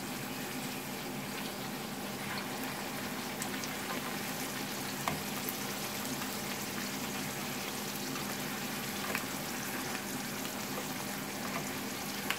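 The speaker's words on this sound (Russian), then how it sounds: "Вот так вот жарится картошечка." Potato pieces cooking in an air fryer, a steady, faint hissing and sizzling texture that runs evenly for over twelve seconds with no talking.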